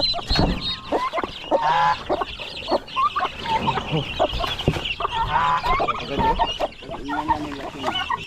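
Chickens and turkey chicks cluck and squawk busily on a farm, a dense, near and continuous chorus of overlapping calls with no talk.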